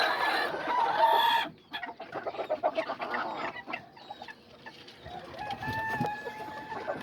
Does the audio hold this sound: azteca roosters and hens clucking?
yes